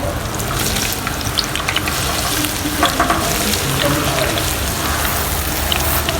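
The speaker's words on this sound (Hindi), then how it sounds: "चल अब हम दोबारा फ्राई करेंगे।" Aloo palak pakoras deep frying a second time in hot oil give off a dense, steady, rain-like bubbling sizzle that stays loud and close throughout.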